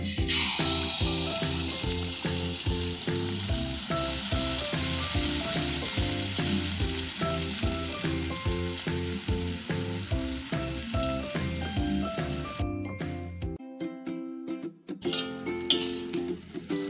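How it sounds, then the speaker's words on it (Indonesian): Kue cucur batter fries in very hot cooking oil in a wok, a loud, continuous close sizzle and crackle that runs steadily over background music, thinning out briefly near the end. "Panaskan minyak sampai minyaknya benar-benar panas. Goreng adonan."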